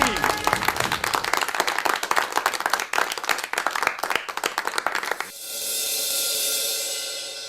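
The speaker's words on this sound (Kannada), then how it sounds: "ಪರ್ಫಾರ್ಮೆನ್ಸ್ ಚಪ್ಪಾಳೆ ಬರ್ಲಿ ಬರ್ಲಿ ಬರ್ಲಿ ಬರ್ಲಿ" Applause for a stage performance on a Kannada TV serial: dense, loud clapping from many hands fills about five seconds, then cuts abruptly to a steady, hissing wash.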